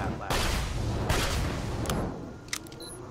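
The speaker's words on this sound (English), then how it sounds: "Listen to this gunshot. It is really loud" Gunshot sounds played back and picked up through a Corsair H2100 headset microphone, a dense burst of booming reports followed by fading crackle and a few sharp clicks near the end.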